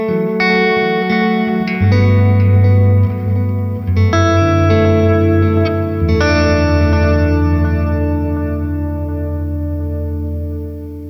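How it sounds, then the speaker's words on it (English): A Dispatch Master reverb and delay pedal turns sustained electric chords into a loud, lush wash, with each new chord swelling and long echoing tails trailing off, heard alone. "My favorite pedal, not a bad sound in it, and it is just your nice standard lush reverb and delay."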